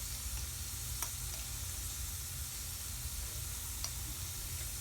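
Chili powder sizzles in a hot pan for chicken vindaloo, giving a steady, close frying hiss with faint stirring clicks throughout and no voices.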